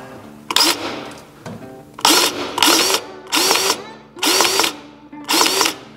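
Grease gun pumped into the U-joint zerk on an ATV prop shaft to the rear differential: five loud, close ratcheting mechanical bursts in a steady rhythm, each about a second long, with short quiet gaps between.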